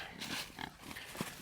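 Pigs on a farm grunt and oink in a loose, overlapping cluster close by, the snorts rising and falling over soft outdoor background noise with no talking.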